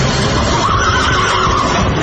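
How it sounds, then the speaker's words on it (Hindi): A horse neighs loudly and continuously for about two seconds, a close, full whinny heard alone. "मेरा घोड़ा निकालो।"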